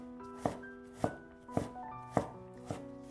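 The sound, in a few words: chopping food into small dice with a knife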